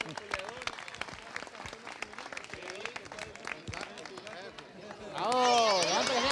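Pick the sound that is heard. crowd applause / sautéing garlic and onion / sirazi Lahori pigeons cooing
crowd applause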